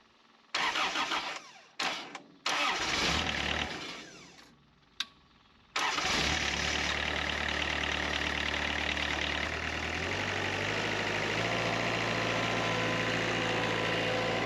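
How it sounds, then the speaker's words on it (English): A Kubota V1505 turbo diesel engine in a Grove boom lift cranks in several short bursts, then fires and settles into a loud, steady idle with a slight knocking rumble. "This is a Kubota V1505 with the turbo on it"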